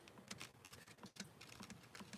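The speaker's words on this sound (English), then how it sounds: "That's my mouse." A computer mouse clicks in quick, irregular bursts, faint and close, with no talking.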